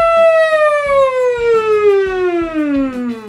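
A voice imitates a siren through a straw, a loud, reedy tone sliding steadily downward in pitch, with faint tapping underneath.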